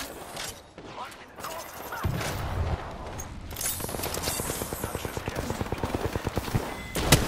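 Rapid automatic gunfire in an Apex Legends firefight builds into a dense, steady rattle of shots over the second half, with faint scattered shots and mechanical clatter earlier and a sharp burst near the end.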